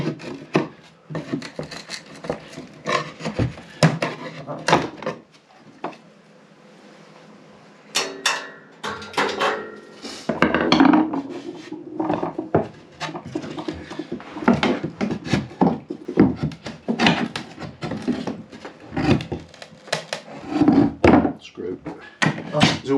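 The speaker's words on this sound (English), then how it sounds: "Let's just take that carpet trimmer off." A carpet trimmer strip is worked loose from a door during a home plumbing job, giving close, irregular scrapes, rasps and knocks of metal against wood, with a brief quieter pause partway through.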